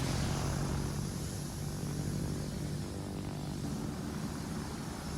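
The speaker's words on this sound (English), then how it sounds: "let's get our planes off." Carrier aircraft launching from a warship in World of Warships: a steady droning propeller-engine hum with a faint buzzing edge, continuous and fairly even throughout, with no voices.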